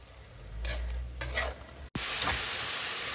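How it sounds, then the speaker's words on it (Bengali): Spice masala stir-fried in a pan, a close hissing sizzle with a few stirring scrapes, cut by a sudden brief gap before the frying noise returns louder. "মশলাটা কষি এখন চিনি ভাজে চিনিটা দিয়ে দিলাম"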